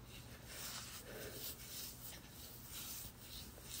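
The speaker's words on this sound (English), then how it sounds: "I rub it with both my hands and then I just like go up" Both palms rubbing rose water and glycerin together before working it into curly hair, a soft continuous friction swish that comes close and steady across a few seconds, with no talking.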